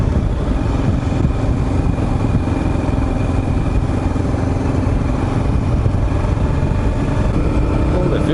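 A KLR 650 motorcycle on new, underinflated tires rides slowly over gravel, giving a continuous, close engine drone with a steady broadband rumble from the road. The level stays even from start to finish.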